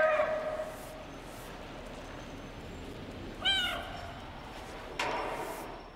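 A cat in the video game Stray meows three times, once at the start and two more short calls later, each clear and fairly close over a quiet ambient hum.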